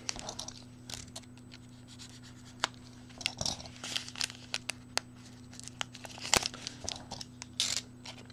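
Panini Diamond Kings card packs being cut open, close crinkling of foil wrappers with sharp snips and tearing sounds in an irregular run, alone and near.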